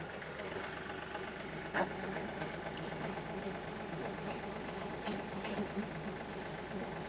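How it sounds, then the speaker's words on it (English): Tractor engine started and running to drive the PTO of a Woodland Mills stump grinder, a steady mid-pitched rumble with knocking idle texture throughout and a brief bump near two seconds, with faint talk underneath. "I'll get the tractor started here. We'll hit the PTO a couple times."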